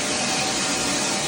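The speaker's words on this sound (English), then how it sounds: "I'm going to get the vacuum working on it. Be a little bit noisy." A shop vacuum cleaner runs at work on a locked-up Buick 350 engine in a 1968 Jeep J10, a steady, loud, broadband whine and roar holding constant throughout with no talking.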